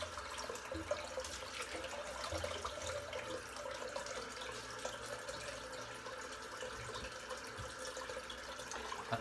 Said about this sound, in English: I'm just going to empty the sink, it's actually quite dirty, the water today.